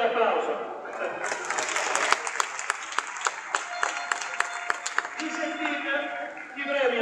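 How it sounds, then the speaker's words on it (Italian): An audience at a Reggina football club celebration applauds steadily, with sharp individual claps standing out, while a presenter talks over the clapping. "prendete l'applauso"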